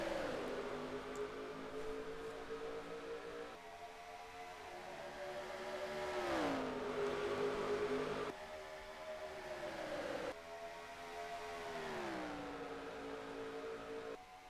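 A pack of 42 race cars in a stock car racing video game roars off the line at the green flag, engines droning and rising in pitch together through repeated upshifts, loud and continuous with no talking.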